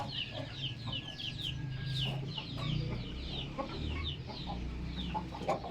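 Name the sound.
Aseel chicken hen clucking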